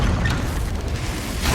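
Confringo spell blast in Hogwarts Legacy, a loud, low booming rumble sustained through the short moment with a slight swell at the end.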